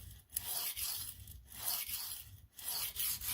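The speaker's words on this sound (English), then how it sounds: "Start grinding away. Just get that bevel set." A knife from BP Custom Knives, the 'Wasp', is ground on a sharpening stone, giving a rhythmic back-and-forth rasping scrape, close and steady, in repeated strokes about one second apart.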